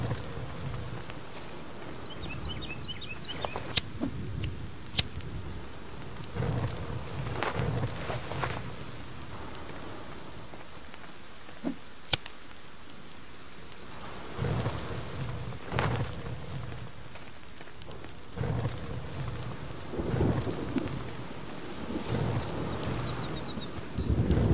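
Rain and rolling thunder in the video game The Forest: a constant rain hiss with several deep thunder rumbles and gusts swelling at intervals, plus a few sharp clicks.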